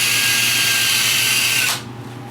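A power drill boring pilot holes for hinge screws on a wooden folding chair stool, a loud steady whine running continuously for under two seconds before cutting off abruptly.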